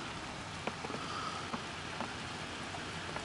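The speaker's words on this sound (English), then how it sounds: "We're in November, going into December, and it's raining. not snowing." November rain falling outdoors, a steady dense hiss with scattered drops ticking on surfaces, moderately loud and even throughout, with no voices.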